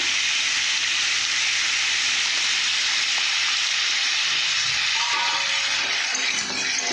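Chilli powder and turmeric sizzle in hot oil while being stir-fried for an oil-based crab curry, a steady bright hiss close up, continuous throughout with faint scraping underneath.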